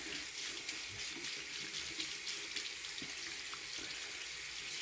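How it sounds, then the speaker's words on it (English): Hands being rinsed under a running bathroom tap after foam cleanser, a steady close hiss of water splashing that continues without pause. "I'll usually just rinse my hands off real quick."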